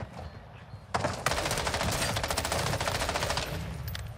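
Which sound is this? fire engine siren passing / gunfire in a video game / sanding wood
gunfire in a video game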